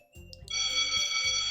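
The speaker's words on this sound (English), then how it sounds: "The bell rings." A bright electronic school bell tone in the game Doki Doki Literature Club rings out and holds steadily, with soft low thuds of game music pulsing underneath.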